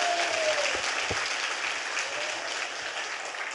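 Congregation at a Korean Friday church worship service applauding, a steady wash of clapping heard at moderate distance, with a couple of brief low knocks early on.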